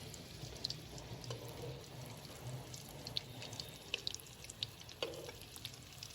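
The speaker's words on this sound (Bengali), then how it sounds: "এবার আমার তেল গরম হয়ে গেছে, আমি এটা ছেড়ে দেবো। একটা একটা করে কিন্তু আমি ভাজবো।" Mutton keema papad rolls frying one at a time in hot oil, a quiet steady sizzle with scattered soft pops and crackles, no talking.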